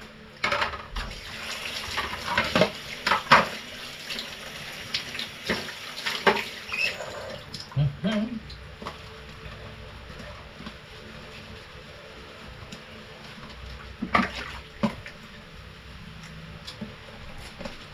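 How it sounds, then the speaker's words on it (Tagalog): Dishes washed by hand under a running tap, with steady water flow and scattered clinks and splashes of plates and utensils, close by throughout. "Hugasan ng pinagkainan para hindi maipon."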